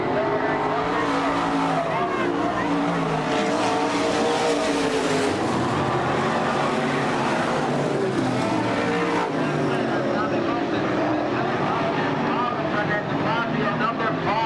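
Race cars roar around a track in a loud, continuous rush of engine noise, with cars passing close and tire sounds mixed in throughout.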